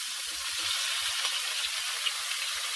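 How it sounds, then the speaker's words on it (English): Hot pan sizzles steadily with a loud, continuous hiss as dinner food is seasoned with salt and pepper, the crackle holding even from start to end with no talking. "You can hear it sizzling. It is nice and hot."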